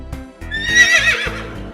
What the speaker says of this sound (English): The horse is a domesticated one-toed hoofed mammal.